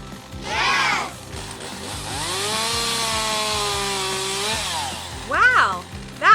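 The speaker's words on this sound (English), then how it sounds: "Let's watch him climb over and use his chainsaw." A chainsaw cutting a tree, its engine note rising and sustained for a few seconds before easing off, with voices talking over it.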